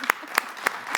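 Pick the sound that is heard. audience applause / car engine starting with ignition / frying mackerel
audience applause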